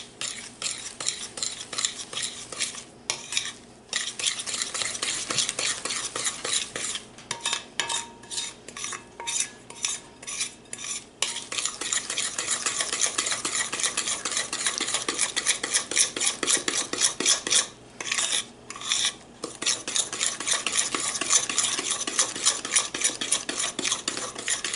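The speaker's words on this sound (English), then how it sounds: "And you're just going to mix that up." Steady scraping and clinking of a spoon working through pineapple bar topping mixture in a bowl, continuous rhythmic stirring strokes with a few brief pauses, close and fairly loud, no talking.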